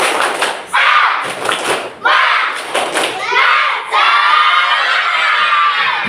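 Children in a classroom clap and chant a rhythmic spirit cheer together, loud and close, with bursts of sharp claps and shouted voices in a lively group pattern.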